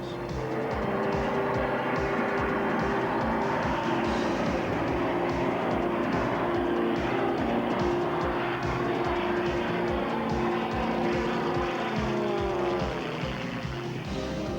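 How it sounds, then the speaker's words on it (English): An aerobatic propeller plane flies manoeuvres including knife-edge flight, its engine a continuous droning buzz with slowly shifting pitch, steady and moderately distant throughout. "Now he turns the plane sideways for knife edge flying."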